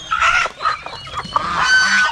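Backyard farm chickens squawk and call in short, loud, nasal bursts, one after another, close by.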